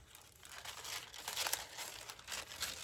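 Thin vintage onion skin paper crinkling close up, soft irregular rustles and crackles handled in bursts, quiet with no talking.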